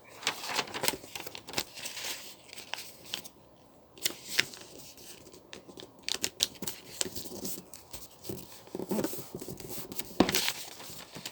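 Sheets of paper being creased and folded twice while making a magic cube, giving a run of soft crinkling rustles and sharp papery clicks up close, with brief pauses between folds.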